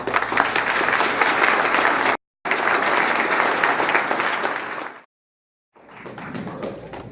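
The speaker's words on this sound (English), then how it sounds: "Let's give him another round of applause" Audience applause at an annual meeting after a historical portrayal of President Taft: a crowd clapping loudly and continuously, broken by two abrupt silent gaps before resuming at a lower level.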